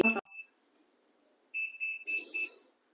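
A short series of electronic beeps from an oven, four quick tones in a row after a brief earlier blip, clear and nearby, with faint room noise.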